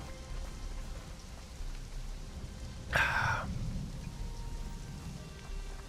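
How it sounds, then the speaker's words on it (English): Steady rain pattering on surfaces in the video game Conan Exiles, a soft continuous hiss with a brief sharper crackle midway. "oh, look at that rain"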